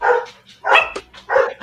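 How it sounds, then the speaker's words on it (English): Several dogs bark in short bursts, three loud yapping clusters close by with brief gaps between them. "I apologize for the dogs."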